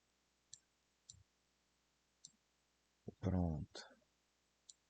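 Computer mouse clicks, a few sparse faint ticks spaced apart in a quiet room, with a brief burst of speech partway through.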